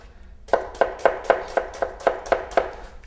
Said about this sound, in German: Für den falschen Hasen als erstes die Zwiebel würfeln.